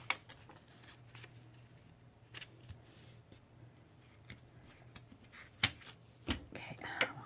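Post-it tape is handled and torn at close range, making soft crinkles and several sharp tearing snaps, with faint quiet speech in the background.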